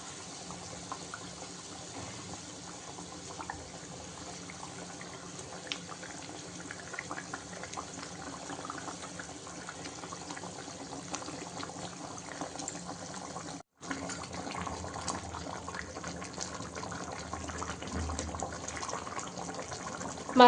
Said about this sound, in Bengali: মাছগুলো ভালো ফুটে উঠেছে